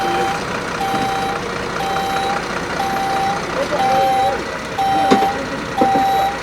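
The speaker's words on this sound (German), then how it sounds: "jetzt fährt der Schneepflug das erste Mal runter" A snowplow working its way down a wintry mountain pass in Morocco sounds repeated reversing beeps at a steady rhythm over a low truck engine rumble, with brief louder knocks and some background voices.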